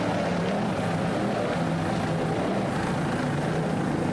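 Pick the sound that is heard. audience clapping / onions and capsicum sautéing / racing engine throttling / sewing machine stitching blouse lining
racing engine throttling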